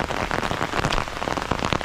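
Heavy rain pours down in a dense, continuous patter of drops striking surfaces nearby, loud and steady throughout with no voices.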